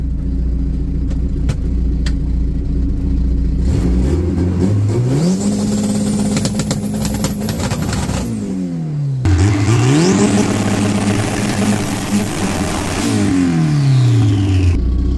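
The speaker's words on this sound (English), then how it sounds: "Let's check the 2-step, make sure it doesn't push through and it makes the boost I want." Street drag car's engine, warmed up, revving hard against a 2-step launch control limiter in two long holds. A loud, close, crackling stutter sits over a deep, steady rumble, and the revs rise and fall between the holds.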